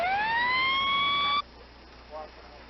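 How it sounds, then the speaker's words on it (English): An emergency vehicle siren wails upward in a rising tone, loud and close, holding steady for over a second before cutting off abruptly, leaving quiet background with faint distant noise. "They're putting on individual sirens."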